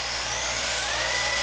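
A vintage Traxxas RC car motor running at full throttle through a mechanical speed controller produces a steady, loud, high whine with a faintly rising pitch, continuous and alone throughout.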